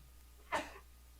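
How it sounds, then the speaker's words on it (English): One short, faint sneeze bursts out alone in a quiet room, with no talking around it. "as I sneeze right on YouTube"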